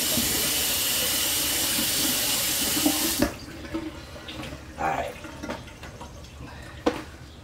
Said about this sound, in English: we're going to run hot water, not boiling hot water, but hot water over it, get it good and wet